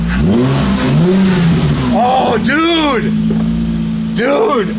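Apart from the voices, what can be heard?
car exhaust revving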